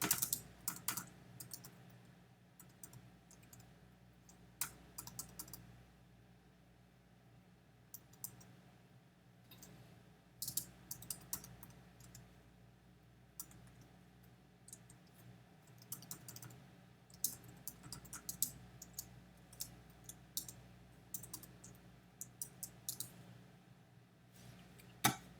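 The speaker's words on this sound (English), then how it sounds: "I'm just going to go ahead and type out the rules really quick" Fingers type in bursts on a computer keyboard, close and quiet, with crisp irregular key clicks separated by short pauses and no voices.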